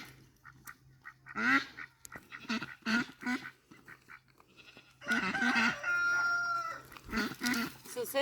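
Farm chickens in a coop cluck in scattered short calls, then a longer drawn-out crow-like call rises midway, with other livestock sounds mixed in nearby.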